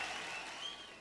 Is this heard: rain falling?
no